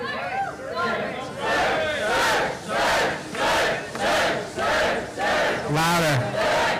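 A concert audience at a rock singer's album release party chants a name in unison, loud rhythmic shouted syllables repeating about every second, close and filling the room.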